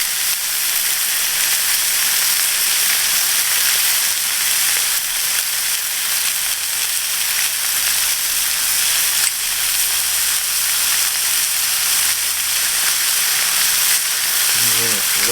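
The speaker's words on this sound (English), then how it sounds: "Gonna mash this butter on with a little bit of garlic in there." Butter and garlic sizzle on a hot hibachi grill, a loud steady hiss that continues without break throughout.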